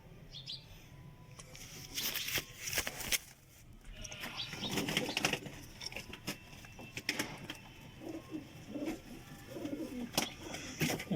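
Pigeons, one with an eye infection, coo softly in a bird-filled outdoor setting, with brief wing flaps and scattered chirps mixed into steady background noise.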